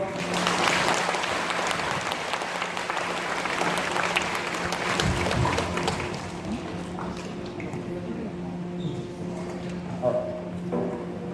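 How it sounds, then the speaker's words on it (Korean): An audience at a Korean high school admissions information session gives the principal a hearty round of applause. The dense clapping is loud at first, then thins and fades out after several seconds, with a voice speaking underneath. "다시 한번 좋은 말씀 해주신 교장님께 큰 박수 부탁드리겠습니다"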